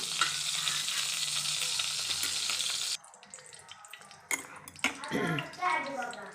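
Ghee sizzles steadily in a pan, a loud broadband hiss that cuts off halfway, followed by clattering pan sounds, scraping and a voice talking.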